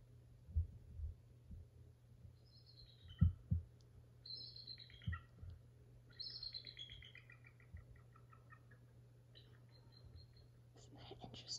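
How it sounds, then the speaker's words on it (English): A bald eagle gives a series of high, thin chittering calls in short bursts, with faint low thumps and background hum underneath. "That's the sound that a bald eagle makes."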